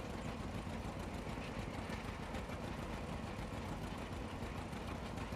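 A tractor engine idles steadily in the farming game Farming Simulator 22, a constant low, even rumble with no other sounds.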